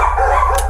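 A pet dog at a home gives one short, loud bark close by, with nothing else heard around it.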